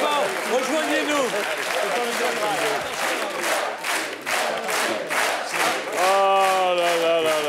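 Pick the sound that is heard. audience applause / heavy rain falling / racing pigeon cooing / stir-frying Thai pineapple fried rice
audience applause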